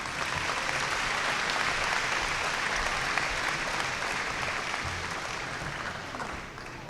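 Sustained applause from a large crowd at a high school graduation ceremony, dense and even throughout, gradually thinning toward the end.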